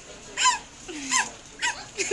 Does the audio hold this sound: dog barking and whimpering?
yes